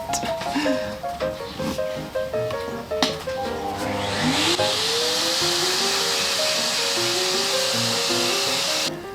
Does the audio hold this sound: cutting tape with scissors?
no